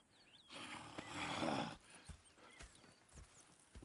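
A video game horse whinnies loudly, then hooves clip-clop in an uneven rhythm nearby.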